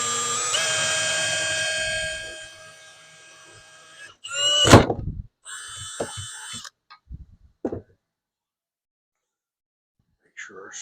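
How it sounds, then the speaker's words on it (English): A power drill boring a small hole during a heavy-duty extension cord build: a steady whining drill run for about two seconds, then a louder burst and a few short, separate mechanical bursts, all close up with no talking. "Just gonna drill a little hole right here."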